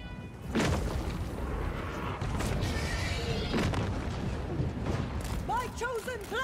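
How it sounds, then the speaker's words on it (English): Explosions from battle in Total War Warhammer III, a series of broad booming bursts mixed with clashing game effects and a steady roar of combat, with some chirping magical effects near the end. "Nice explosion damage."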